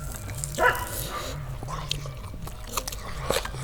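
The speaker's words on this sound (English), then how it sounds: "Our guardian dogs." Farm guardian dogs bark and yip a few times at moderate distance, outdoors, along with some soft chewing and low background sounds.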